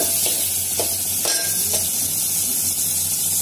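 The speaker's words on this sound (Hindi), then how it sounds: "थोड़ा सा फ्राई कर देती हूँ।" Onions and green chilies sizzle steadily in hot oil with mustard seeds and cumin, a dense, even crackle close by, broken by a few soft stirring scrapes.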